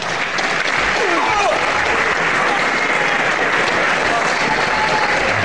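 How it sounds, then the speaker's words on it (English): A wrestling crowd gives the match winner a big, continuous round of applause, loud and sustained throughout with no breaks. "I'm sure you give him a very big round of applause"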